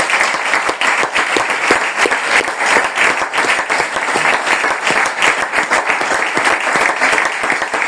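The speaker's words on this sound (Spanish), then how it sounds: "Un aplauso para él." A book-presentation audience gives the author a loud, sustained round of applause, dense and continuous clapping from a sizable crowd close by throughout.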